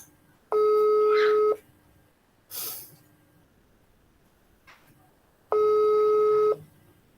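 Two long electronic ringback tones from an unanswered phone call, each about a second, separated by a pause with a brief hiss and faint noise, in a quiet setting.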